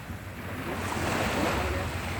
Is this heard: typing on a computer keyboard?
no